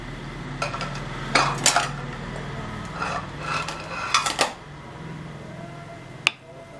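A spoon stirs curd into Tamil mor kulambu in a pot on a low flame, producing a few clinking scrapes and knocks against the metal rim amid quiet background hiss, with a sharp tap near the end.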